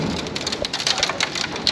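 Hailstorm with heavy rain, a dense steady patter of drops and sharp ice pellets striking a hard surface close by, with no voices.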